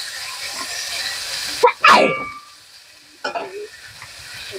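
Bitter gourd and potatoes are stir-fried in a pan, with a low sizzle broken by a couple of loud scraping, clattering strokes of a spatula, close by, with no one talking.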